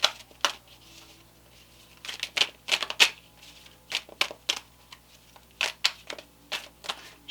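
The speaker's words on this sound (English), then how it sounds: "Shuffling these cards." Tarot cards being shuffled in repeated crisp, papery bursts, irregular and close, with short pauses between riffles and no talking.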